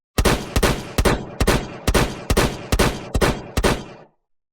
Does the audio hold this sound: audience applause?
no